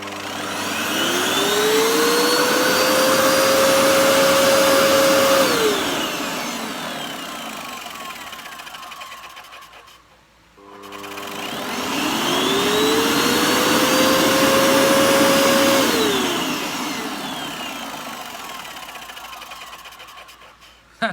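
A Hoover Dust Manager Cyclonic DM6228 vacuum cleaner is switched on twice, each time its motor whining up in pitch, holding a steady loud drone for several seconds, then spinning down to near silence before starting again.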